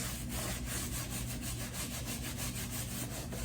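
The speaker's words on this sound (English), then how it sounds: "You can take that steel brush, that sander, and go around inside this pot" An electric sander fitted with a steel wire brush scours the inside of a cast iron pot, giving a steady, loud, continuous abrasive grinding with a faint rhythmic pulse throughout, no voices.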